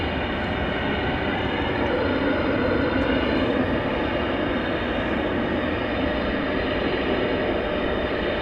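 A jet airliner arriving at DFW Airport on a flight from San Antonio, Texas, produces a broad, steady engine rumble and roar that stays loud and continuous throughout, with no voices.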